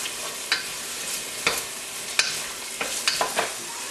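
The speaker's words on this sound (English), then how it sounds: "I'm going to stir these onions in a little bit to the oil" Onions stirred into sausage grease in a frying pan, a soft continuous sizzle punctuated by several sharp scrapes and taps of the spoon against the pan, close and quiet.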